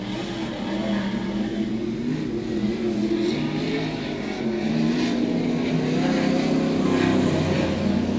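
Race car number 5 on a circuit during a timed lap in cool, misty rain, its engine droning loudly and continuously with rising revs, heard close and steady throughout.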